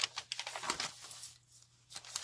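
Grocery-bag paper crinkles and rustles in repeated handling bursts, close and moderately loud, with a quieter pause midway before more crumpling.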